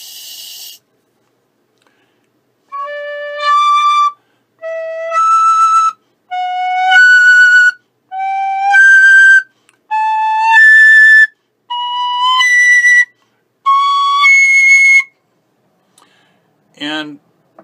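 A Freeman Bluebird tin whistle plays a clear rising series of about seven sustained notes, each held roughly a second with short gaps, loud and close, ending with a brief sliding chirp.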